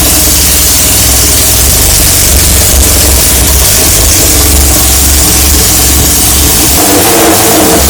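A Yamaha R6 sport motorcycle engine revs loudly and close up, a steady, dense roar that holds high throughout with slight rises and dips.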